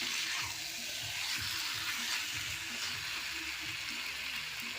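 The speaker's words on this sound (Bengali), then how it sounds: "এখন মশলা ধোয়া জল আর এমনি জল এক মগ দিয়ে দিলাম" Water, including water used to rinse the spice container, is poured into a pot of chicken and potato curry, giving a steady rushing splash close by that mixes with faint sizzling and runs without pause.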